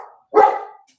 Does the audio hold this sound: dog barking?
yes